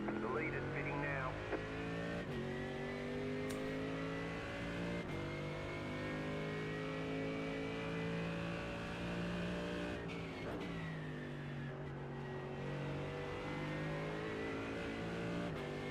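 Racing car engines in iRacing, a Mercedes AMG GT3 with a BMW nearby, drone steadily and loud throughout, with rising and falling revs and shifts, a brief tire squeal near the start, and talk over the top.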